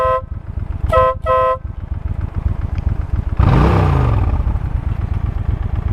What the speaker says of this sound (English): I'm gonna honk my horn